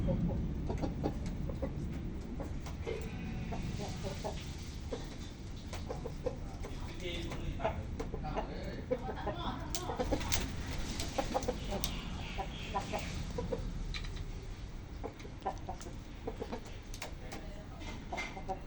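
A Thai fighting rooster clucks and calls repeatedly over a long stretch of busy farmyard-style background noise, with other fowl and some voices faintly mixed in.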